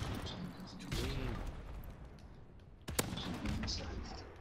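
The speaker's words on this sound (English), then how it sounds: "Oh fuck, I'm getting shot at." Gunfire in a video game as the player is shot at, with several sharp reports including a strong crack midway over a noisy background.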